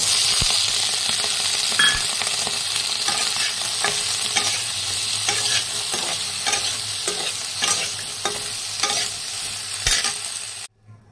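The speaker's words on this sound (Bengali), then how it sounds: "এবার আমি খানিকটা বিনস এবং গাজর এরকমভাবে লম্বা লম্বা করে কুটে রেখে দিয়েছিলাম, সেইগুলো সামান্য একটু ভেজে নেব।" Long-cut beans and carrots frying in oil in a pan, giving a loud continuous sizzle with repeated scraping knocks from stirring, then stopping abruptly at the end.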